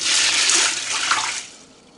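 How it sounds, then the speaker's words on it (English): Water pours from a cup into a Ninja Foodi pressure cooker holding black beans, a steady close splashing stream for about a second and a half that then tapers off. "I add in 4 cups of water"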